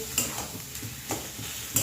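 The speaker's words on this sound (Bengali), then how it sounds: "আলুটা তেলে যদি একটু ভালো করে ভাজা ভাজা করে নিই" Potatoes fry in oil for aloo paratha filling, a constant sizzle broken by several sharp scraping and stirring knocks at irregular intervals, close and fairly loud.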